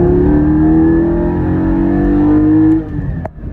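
A 2020 Porsche GT4 engine revs up loud and close, rising in pitch over a few seconds before the throttle drops off abruptly into a lower idle.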